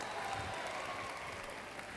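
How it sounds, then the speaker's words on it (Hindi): An audience at a college session on mental health breaks into applause, a short burst of dense, steady clapping that fills the room without a break. "तालियां"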